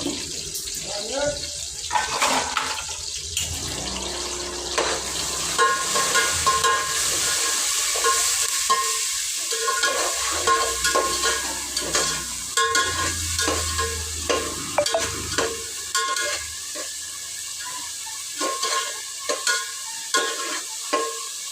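Green chillies and fresh curry leaves fry in a pan, giving a continuous sizzle with stirring and scraping, plus intermittent running-water sounds close by.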